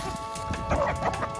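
Chickens, Silkie hens among them, cluck softly in a short burst of several quick, fairly close calls over a low background hum.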